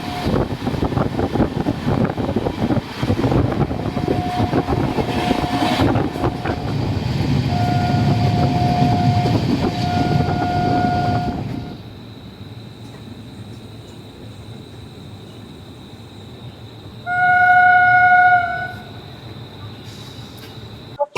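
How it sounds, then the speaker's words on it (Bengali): The 13125 Sairang Express rolls into New Farakka station with a heavy rumble that drops away as it slows, followed by a quieter stretch and a short tonal horn-like blast. "এই মুহূর্তে আমাদের ট্রেন এসে পৌঁছালো নিউ ফারাক্কা"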